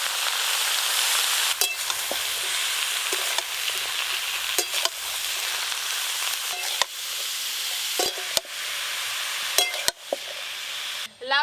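Chopped bottle gourd fries in a pan with a steady broad sizzle, broken by occasional scraping clicks of a spatula stirring, with no talk.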